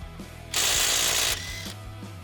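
A cordless 20V 1/4-inch impact driver working a car's lug nuts gives one loud burst of roughly three-quarters of a second, a harsh rapid hammering close to the microphone, with quiet mechanical clicks before and after.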